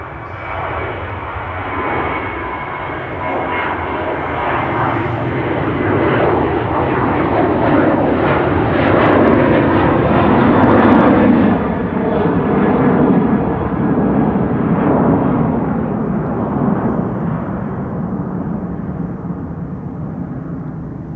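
A Transavia airliner at Amsterdam Schiphol makes a loud, steady jet engine roar that swells toward the middle and eases off slowly over about twenty seconds, heard alone without talk.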